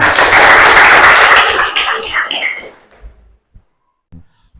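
A classroom of students applauding, a loud burst of clapping that fades out over about three seconds, leaving a few scattered taps and near silence.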